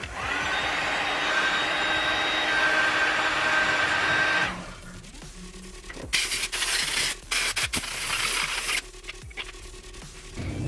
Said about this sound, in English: take the heat gun and heat up this portion